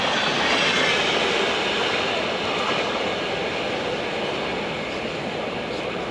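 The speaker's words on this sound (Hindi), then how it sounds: "Kamakhya old Delhi Brahmaputra mail. Skip करें दोस्तों बर्थना स्टेशन।" A Kamakhya–Old Delhi Brahmaputra Mail express rushes past Barthana station in India, its loud, steady roar and rattle filling the scene close by without pause for the whole stretch.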